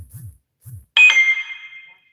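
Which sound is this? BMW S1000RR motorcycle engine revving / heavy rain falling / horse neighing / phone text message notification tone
phone text message notification tone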